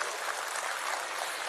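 An audience at a college award ceremony claps steadily and densely, a broad even wash of applause with no voices over it.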